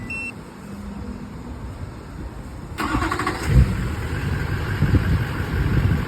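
A short electronic remote-start beep sounds, then a 2004 GMC 2500 HD truck engine cranks and catches, settling into a steady idle rumble close by.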